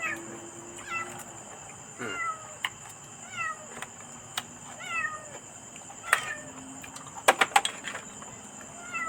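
A cat meows repeatedly at intervals, fairly faint, over a steady high electrical hum, with a few sharp clicks and knocks near the end.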